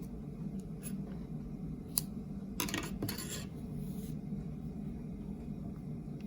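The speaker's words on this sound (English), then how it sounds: "Now you can cut your yarn." Scissors snip through crochet yarn in a few quick, close cuts against a low steady room hum.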